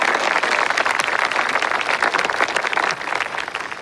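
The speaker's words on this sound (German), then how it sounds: "Ein Applaus bitte für meinen wunderbaren Ehemann" Dense, lively applause from guests at a party, many hands clapping in a fast, continuous patter that fills the whole few seconds, close and loud, easing slightly toward the end.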